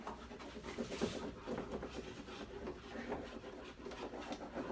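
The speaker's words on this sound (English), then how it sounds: "it is just a case of rubbing" A plastic transfer is rubbed onto a painted surface, giving a soft, steady, scratchy friction close by, with faint irregular strokes and no voices.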